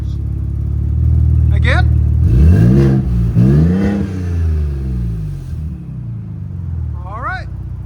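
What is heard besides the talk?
Ford Raptor engine revving through aftermarket exhaust mufflers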